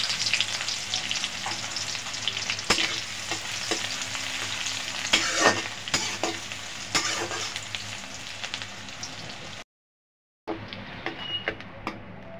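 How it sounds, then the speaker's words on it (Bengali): Chopped onion and cumin frying in oil, a loud, dense crackle close to the pan with sharp bursts and stirring scrapes, cut by a brief dropout near the end. "তারপর পেঁয়াজ কুচে দেবো, দিয়ে দিলাম কিছুটা পেঁয়াজ কুচি"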